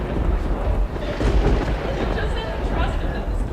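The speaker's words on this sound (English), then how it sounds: "The storm gets really strong." A thunderstorm sound effect for a staged reading of a boat launched into rough water, with dense rumbling thunder and rain-like noise rolling continuously and loudly throughout.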